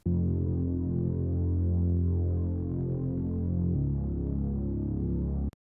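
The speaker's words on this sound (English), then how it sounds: "So basically what this is also just a saw wave, not much detune." A synth saw wave with little detune holds a steady, buzzy low tone with a thick humming body, shifting pitch once midway before cutting off abruptly.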